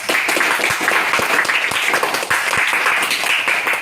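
Schoolchildren in a seventh-grade classroom applauding together, a dense burst of hand clapping that stays loud and steady throughout, close by and with no talking over it.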